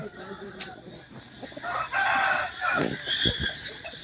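A young rooster, around five to six months old, crows in a rooster yard. The fairly faint call rises midway and trails off, with some background noise and movement around it.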